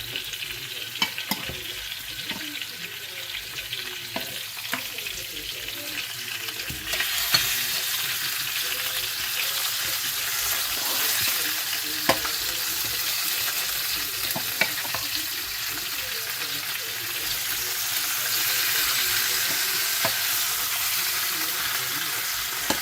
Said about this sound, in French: Vous allez laisser griller la viande.